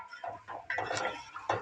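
Spiced chicken masala stirred and fried in a pot for aloo chicken curry, soft scraping spoon strokes and clinks against the metal with a quiet sizzle, a few short close strokes.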